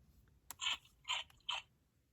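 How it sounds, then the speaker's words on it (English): A toy rabbit's tail gives three short crinkly crunches when pressed, close and faint, spaced about half a second apart over a quiet background. "Pet the rabbit's tail to hear a crunch."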